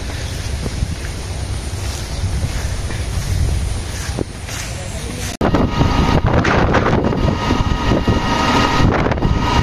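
A village boat moving across shallow water, a loud steady rush of water and wind buffeting the microphone, with an abrupt shift partway through to a rougher, busier wash.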